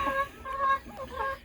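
Beaker, a broody hen with a slightly crossed beak, gives a short run of low, throaty clucks close by, soft and brief.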